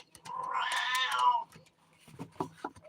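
A person imitates a cat, voicing one long, loud, drawn-out meow alone in the first second and a half, followed by a few shorter, softer meow-like sounds.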